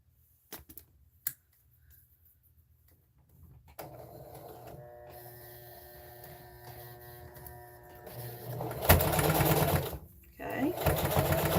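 A sewing machine stitches a fabric mug rug, its motor whirring steadily louder after a few quiet clicks and pauses, with a voice talking in the background.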